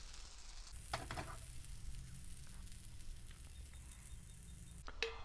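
Bread cubes stir-frying with caramelized garlic in a pan over a low flame give a steady, close sizzle, with a few sharp clinks of a utensil against the pan near the start and end.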